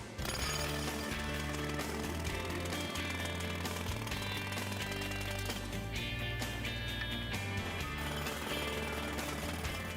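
A jackhammer breaking asphalt pounds continuously and loudly, its rapid hammering steady for the whole stretch with mechanical clatter layered over it.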